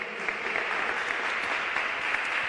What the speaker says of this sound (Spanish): déle un fuerte aplauso al Rey de Reyes y Señor de Señores. Aplaudan.